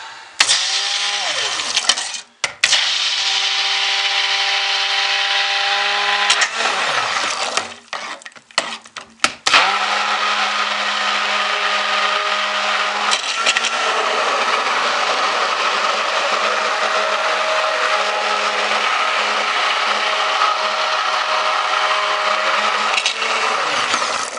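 A loud motorized whir of a blender mixing soap batter, starting and stopping a few times early before settling into a long steady churn.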